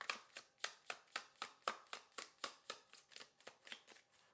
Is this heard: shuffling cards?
yes